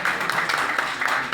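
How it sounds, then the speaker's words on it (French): Audience applause at a celebration of the 77th anniversary of the Universal Declaration of Human Rights: a short, dense burst of steady clapping throughout, moderately loud and without pause. "Est-ce que ça mérite un beau applaudissement"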